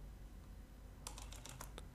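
About a second of quiet room hiss gives way to a short, close burst of keystrokes on a computer keyboard while a path is entered into the Windows Run dialog.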